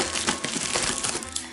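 Close crinkling and rustling of plastic packaging on a diamond painting kit, cut with scissors, quick snipping and crunching, short and busy, no talking.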